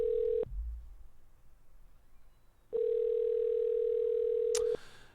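A telephone in the video game OneShot rings unanswered, with two long steady electronic tones separated by a pause and a sharp click at the end of the second, close and alone.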